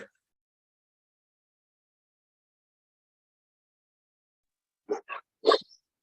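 Inside a house, a dog lets out a few short, faint barks in quick succession after a long silence.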